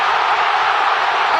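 A stadium crowd roars in a dense, continuous wash of cheering after Raul Jimenez scores for Mexico against South Africa at the World Cup, loud and sustained for a brief moment.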